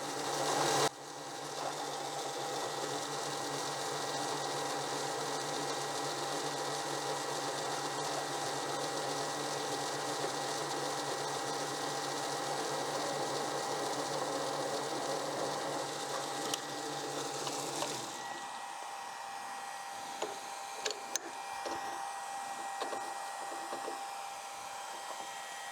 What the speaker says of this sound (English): And start the mill.